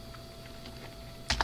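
Keys tapped on a PS2-compatible computer keyboard: a soft run of light clicks, then two louder, closer keystrokes at the end, with no talking.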